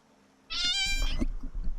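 Oreo, a pet cat, lets out a single close, clear meow that rises and falls, followed by faint rustling.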